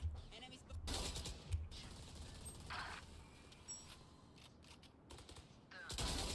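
Bursts of gunfire from the video game Destiny crackle through most of the stretch, loud and broadband with a few sharper shots, while players talk over the action.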